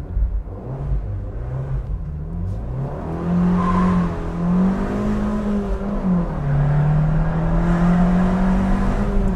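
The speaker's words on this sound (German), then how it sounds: "Hört euch den Ton an vom Auto." A 2019 Abarth 595C Pista with 160 hp drives on an open road, its engine and exhaust droning loudly and steadily throughout, the pitch sliding up and down as it revs and shifts.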